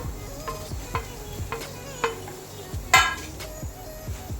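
Finely chopped tomato and garlic sizzle in a hot pan while a spoon stirs and scrapes in repeated strokes, sharp clinks standing out over a soft steady fry.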